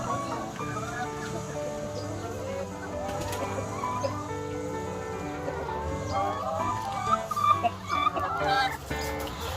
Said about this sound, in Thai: แม่ไก่ไข่ดก